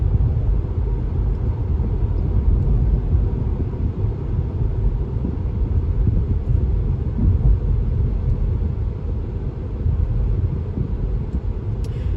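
Interior of a 2021 Acura TLX Advance on the move, with a steady low road and engine rumble droning continuously without talking.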